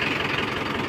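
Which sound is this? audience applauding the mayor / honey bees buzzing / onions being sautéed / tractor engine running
tractor engine running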